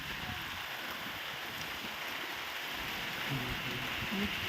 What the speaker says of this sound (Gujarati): આવી રીતનો વરસાદ ચાલુ થઈ ગયો છે વાડીએ।